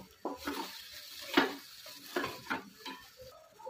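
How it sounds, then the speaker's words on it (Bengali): A spoon stirring a thick curry in a pan after a sprinkle of garam masala, with several scraping strokes and light clinks over a soft, faint sizzle. "আমি এখন অল্প করে গরম মশলা ছিটিয়ে ভালো করে নেড়ে নেব"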